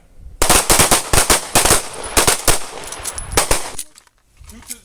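Rapid pistol shots crack out at an outdoor combat range, a dense volley of loud, sharp reports from several shooters firing at targets, followed by a brief quiet.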